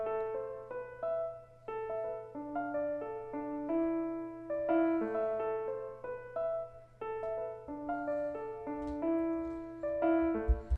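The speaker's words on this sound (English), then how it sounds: "And then the other instrument we had was this piano, which sounds like this." A sampled piano melody programmed in FL Studio, clean sustained chords and single notes stepping through a catchy repeating phrase, with a low steady tone underneath and no voices.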